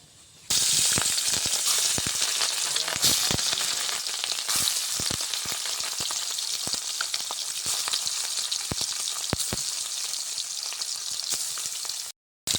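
Fish roe coated in salt and turmeric frying in hot oil, a loud continuous sizzle with frequent sharp pops and spits and a little stirring, no voices.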